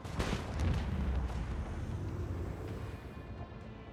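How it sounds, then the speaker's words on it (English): Macro cannons firing in the Rogue Trader video game during a ship battle: a loud, rumbling burst of heavy booming fire that fades into a sustained roar, with no talking. "Macro cannons, open fire!"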